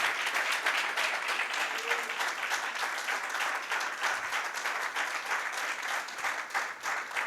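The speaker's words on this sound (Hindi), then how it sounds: "जोरदार तालियां बजाओ, उसको जलाल दो, उसकी सताइश करो," A church congregation bursts into loud, sustained applause at a Christian lecture service, dense clapping filling the whole stretch at steady strength with faint voices mixed underneath.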